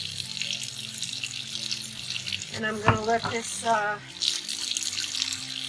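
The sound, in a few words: basin filling with hot water from a tap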